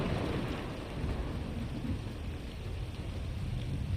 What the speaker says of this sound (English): Boy, the storms are loud here.